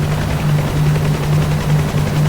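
A helicopter in a flight simulator game lands, its rotor and turbine giving a steady, loud, continuous drone with a sustained low hum throughout.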